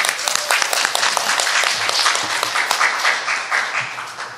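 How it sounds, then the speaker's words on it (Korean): An audience at a university business capstone presentation gives the presenting team a dense, steady round of applause that fills the room throughout, with no voices standing out. "여러분, 버블펍팀에게 힘찬 응원의 박수 보내주시기 바랍니다"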